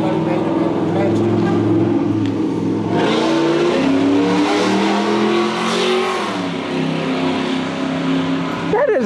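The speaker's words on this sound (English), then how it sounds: "That is a shame to have a car that loud." A loud classic 1962 Chevy Nova engine revs close by, a deep roaring drone that climbs and drops in pitch, with people talking over it.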